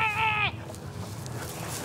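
A goat on a farm lets out one clear, close, wavering bleat at the start, then faint outdoor background noise follows.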